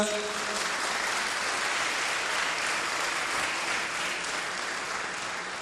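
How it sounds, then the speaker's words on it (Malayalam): A church congregation claps in praise during a worship service, a dense, steady wash of applause that holds loud and continuous throughout. "ഒന്ന് കൈയടിച്ച് കർത്താവിനെ മഹത്വപ്പെടുത്തുക"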